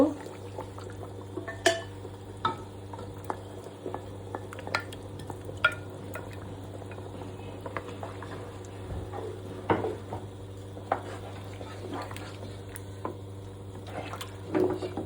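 Lentils are tipped onto pressure-cooked meat in a pot and stirred, with repeated scraping and clinking of a spoon against metal over a low steady hum, the strokes irregular and close.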